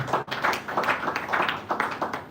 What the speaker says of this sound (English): Please a round of applause again for her.